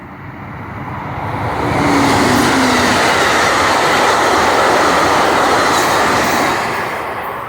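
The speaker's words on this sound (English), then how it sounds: "So here comes another train." An Amtrak passenger train rumbles past nearby at I&M Canal Lock 2, its steady roar swelling to a loud peak, holding, then easing off as it moves away.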